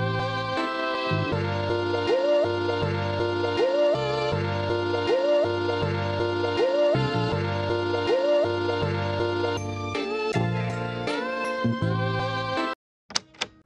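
A chopped music sample rearranged into a new pattern, with a repeating bass and chord stab rhythm and a rising melodic bend recurring each bar, playing loud and alone before cutting to a brief tail of scattered hits.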